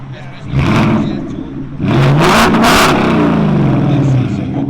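A 2024 Ford Mustang GT 5.0L V8 running a Corsa Double Helix exhaust with the muffler deleted gives a short blip, settles, then holds a longer loud rev that slowly falls back to a deep burble, recorded up close.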